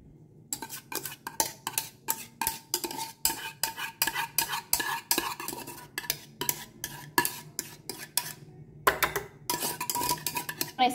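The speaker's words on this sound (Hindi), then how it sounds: "इस कस्टर्ड को ना इस कंटेनर में डालते हैं" Custard scraped and poured from a pan into a container after the gas flame is switched off, giving a steady run of close, sharp spoon-on-metal scrapes and clinks with short pauses, no voices.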